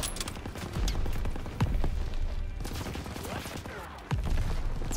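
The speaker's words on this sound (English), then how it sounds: "let me shoot this guy first" Dense, rolling gunfire from a Call of Duty WW2 Normandy battle, bursts of automatic fire and single shots crackling close and loud across the whole span, with brief voice sounds mixed in.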